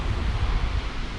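Hot, breezy midday wind buffets the microphone at a seaside campsite on Cherating beach, a steady broadband rush with faint surf underneath, no voices.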